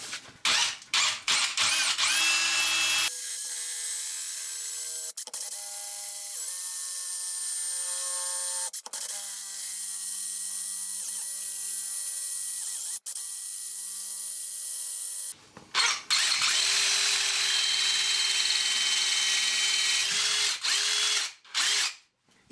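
Power drill with hammer action switched off boring through an outside brick wall for a tap, a loud close steady whine that shifts pitch as the bit bites, stops briefly and then resumes.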